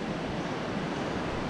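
A river running alongside a forested mountain road on the way from Cusco toward Machu Picchu, a steady broadband rush of flowing water, fairly faint and continuous without any voices.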